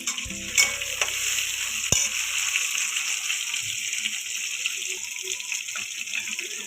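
Onions sizzling in a pan for a hotel-style curry, a bright continuous hiss with a brief clatter and low rumble near the start, then steady frying alone.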